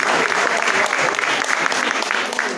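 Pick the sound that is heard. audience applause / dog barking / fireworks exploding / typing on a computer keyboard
audience applause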